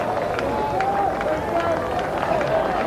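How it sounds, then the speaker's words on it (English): Steady applause and crowd noise from spectators at a 1989-90 rugby union match between Newbridge RFC and Cardiff, a continuous moderate roar with a commentator talking over it. "applause all around"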